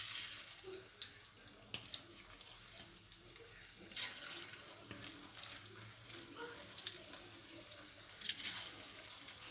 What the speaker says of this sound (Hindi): तेल गरम हो गया, पकौड़े डालना शुरू करते हैं।